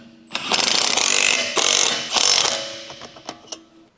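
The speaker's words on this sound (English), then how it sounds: "Using the 19 mm deep socket and impact wrench, tighten the front wheel lug nuts." On a Honda Civic EK, a pneumatic impact wrench with a 19 mm deep socket tightens the front wheel lug nuts, sounding as loud, close bursts of hammering followed by a few short sharp taps.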